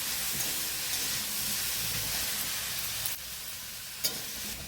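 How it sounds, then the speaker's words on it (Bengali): Spiced masala with cumin powder fries uncovered in a pan, a continuous close sizzle and hiss that dips briefly near the end with a couple of small clinks, no one talking. "মশলাটা খুব সুন্দর করে কষবো।"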